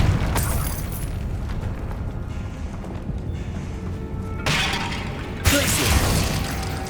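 A Confringo explosive spell cast in the video game Hogwarts Legacy bursts with a loud, crackling blast, followed by a second bright shattering burst amid rumbling game sound.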